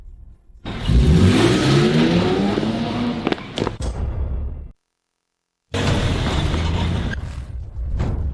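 A car engine revs hard and roars as the car pulls away, loud and close. It cuts out briefly, then returns at full volume.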